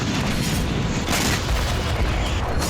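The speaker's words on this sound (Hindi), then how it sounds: "बमबारी कर रही है" Russian air force bombardment produces a dense, rumbling barrage of heavy booms and blasts that rolls on continuously and loudly, with no voices.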